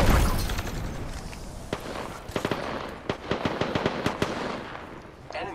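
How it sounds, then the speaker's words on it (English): A grenade goes off during a firefight in the video game Apex Legends, with a rapid run of sharp cracks and bangs over a steady rumble. Faint speech sits underneath. "Look out, grenade."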